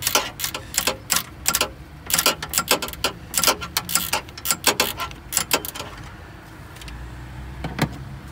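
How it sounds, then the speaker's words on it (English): A hand ratchet works a bolt loose on a bracket of a Toyota Yaris, giving quick, crisp clicking in uneven bursts, close and loud, then slowing to a few scattered clicks near the end. "once we get this bolt almost out"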